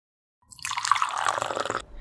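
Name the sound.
water filling a bottle with tea leaves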